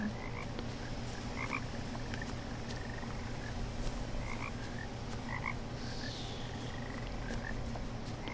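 Frog croaks from a river in What Remains of Edith Finch, short paired calls repeating every second or two over a steady low ambient hum, moderately near, with no voices.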